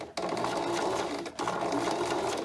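Sewing machine back stitching through knit dress fabric, a steady close whir that halts briefly twice and then starts up again, with no talking.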